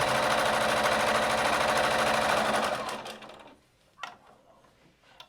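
A sewing machine runs fast and close, stitching fabric for a headband with a dense, steady mechanical whir, then slows and stops, followed by a couple of small clicks and handling sounds.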